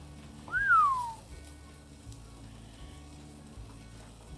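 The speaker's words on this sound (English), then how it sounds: "Do you guys hear that sizzle?" Picanha beef sizzles on a Santa Maria grill with a faint, steady hiss; a brief whistle-like tone rises and falls near the start.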